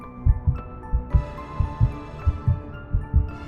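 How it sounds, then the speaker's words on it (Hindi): Heartbeat sound effect for a horror story, steady paired thumps repeating about ten times over a low hum, no voices. "और जब ये आरव देखता है तो उसकी दिल की धड़कनें बहुत तेज हो जाती है।"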